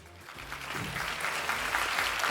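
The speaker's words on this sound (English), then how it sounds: "A big round of applause as we welcome our guest speaker." Audience applause welcoming a guest speaker at a masterclass event, a dense crowd clapping that builds from moderate to full and steady, close and sustained with no talk over it.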